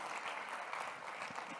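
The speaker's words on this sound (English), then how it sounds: "Give yourselves a round of applause." Applause from the audience at a diversity symposium keynote, a steady wash of many hands clapping throughout, moderately distant and fairly quiet, with no voices.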